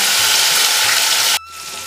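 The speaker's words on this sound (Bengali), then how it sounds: "দিয়ে দিলাম টমেটোটা" Tomato goes into a hot pan of coconut and rice-lentil, setting off a loud, close, hissing sizzle that drops abruptly to a quieter simmer about halfway through.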